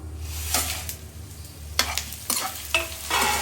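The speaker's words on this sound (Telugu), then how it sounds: "దీంట్లోనే ఇప్పుడు బాగా హీట్ అయింది కాబట్టి అన్నీ ఒకేసారి వేసేసి ఫ్రై చేస్తాను నేను" Lentils and dried red chilies frying in hot oil in a kadai, a close crackling sizzle broken by several sharp stirring scrapes against the pan.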